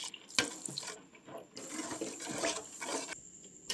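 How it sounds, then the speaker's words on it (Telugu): Water poured into a simmering pan of gongura fish curry, making a steady splashing, gurgling stream that swells and eases over several seconds, close by and with no talking. "నీళ్ళు పోసేసుకుంటున్నా."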